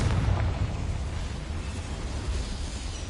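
A fiery Confringo explosion spell in Hogwarts Legacy, a loud broadband blast with a deep rumbling tail that stays dense and roaring throughout.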